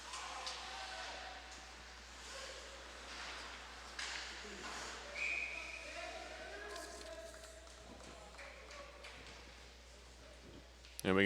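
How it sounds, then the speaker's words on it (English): A referee's whistle at an ACHA college ice hockey game blows one short, clear blast partway through, above a continuous rink and crowd noise. "And we get a whistle here"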